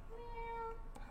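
A single short, quiet meow from a cat, slightly drawn out, over faint background hiss.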